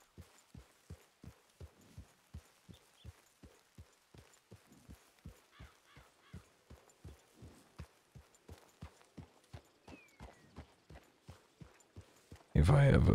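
Hooves of a white horse clip-clop at a steady walking rhythm in a Wild West roleplay game, evenly spaced near footfalls running throughout, ending in a sudden loud burst of noise.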